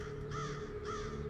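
Two harsh caws from a crow, evenly spaced and fairly close, over a steady low background hum with no talking.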